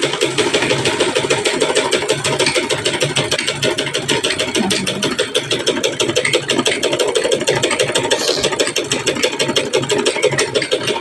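A sewing machine runs steadily, stitching a fitted shirt (kameez) in a home tailoring setting, giving a continuous, fairly loud mechanical whir with fine rapid ticking throughout and no talking.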